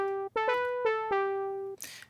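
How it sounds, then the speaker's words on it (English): Basic Serum synth patch built from a sawtooth wave through a low-pass filter, playing a short sequence of sustained chords with clear attacks at each change, loud and alone, ending in a brief noisy burst. "Just a very basic saw wave with a low pass filter."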